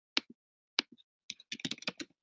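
Keys clatter on a computer keyboard: a few isolated taps, then a quick irregular run of crisp presses, close and clean against near silence.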